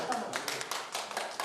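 Welcoming applause breaks out at an airport for Afghan families arriving with suitcases and small children, a steady patter of many hands clapping throughout, mixed with voices talking in the background.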